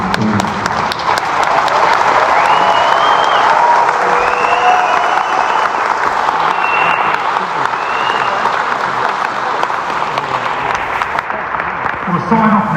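Long, sustained audience applause and some cheering at a Ziggy Stardust 50th celebration panel event in Hammersmith, a thick, even roar of clapping from a large crowd that tails off near the end.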